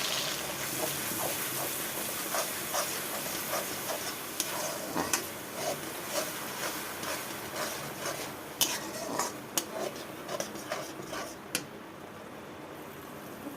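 Spice paste for a hilsa fish curry hits hot oil with a steady broadband sizzle, while a utensil clinks and scrapes against the pan in scattered sharp taps, close and alone.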